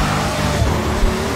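Race car engine in the driving game Grid 2, a steady loud roar with faint tyre squeal as the car drifts, continuous throughout the short stretch with no talk.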